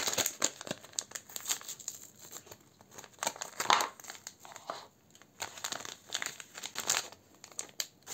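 Close, crisp crinkling of a small paper sachet of colorless henna, irregular bursts of rustling and crackling handled for several seconds with no talking.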